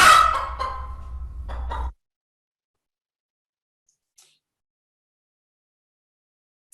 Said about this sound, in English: we play an alarm call.